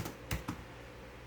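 Typing on an Alcatros Airpad 1 wireless keyboard with built-in touchpad: a handful of distinct, close key clacks at uneven intervals, light and sparse against a quiet room.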